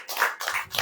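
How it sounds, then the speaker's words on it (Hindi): An audience at a church sermon gathering gives a brief burst of clapping, with a few quick, close hand claps. "ताली बजाइए।"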